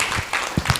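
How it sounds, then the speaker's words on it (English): Conference audience at a stakeholders' meeting breaking into applause, a dense burst of clapping filling the short moment, fairly loud and close. "Please, another round of applause for Professor Jegede."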